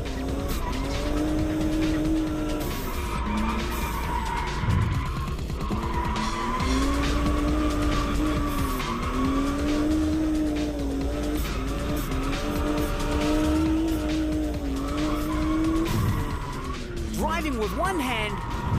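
A drift car at a 2005 drift event slides with its rear tyres squealing. A loud, continuous, wavering screech blends with the revving engine, close and unbroken for the whole stretch.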